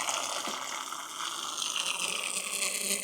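Water siphons back down a submerged garden hose into a trash can, a steady broadband trickling and gurgling rush holding at an even level throughout with no talk over it.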